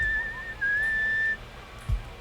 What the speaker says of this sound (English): I'm just gonna whistle to make it faster.